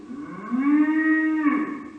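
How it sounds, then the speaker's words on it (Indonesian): A healthy cow gives one long, loud moo from close by, steady in pitch before a brief rising break near the end, with no talking. "Wah, ini berarti sapi yang tidak berpenyakit."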